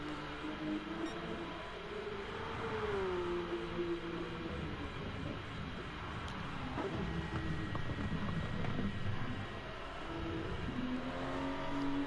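A racing car engine in Gran Turismo Sport on a flying lap at Laguna Seca, a continuous moderate engine drone with rising and falling pitch as it accelerates and shifts, with no voice.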